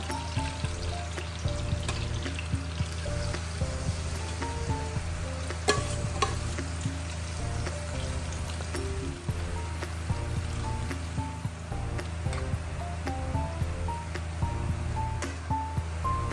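Pork liver frying in oil for pork igado, cooked indoors: a steady, close sizzle with soft crackle that runs the whole time, with occasional light clinks of a utensil against the pan.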